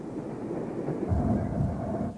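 A Midland steam locomotive rumbles through the closed Saltley station, a low steady roar with faint rhythmic rail clatter, close and moderately loud.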